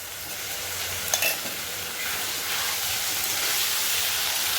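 Potatoes and spices for matar ghugni fry in a pan with ginger, garlic, chili and onion, giving a steady, fairly loud sizzling hiss that builds slightly, with one brief clatter near the start.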